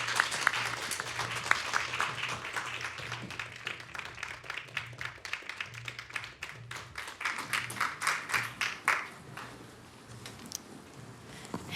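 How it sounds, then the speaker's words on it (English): An audience at an environmental talk event claps for the next speakers, with scattered, moderately close claps that build and then thin out to a few last claps. "So let's give a applause to the next speakers."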